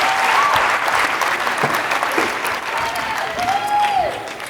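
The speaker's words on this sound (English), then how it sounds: "Another round of applause for Sarah and the team" Enthusiastic audience applause at a conference keynote, dense clapping that fills the hall steadily and loudly, with faint whistles or cheers rising briefly through it.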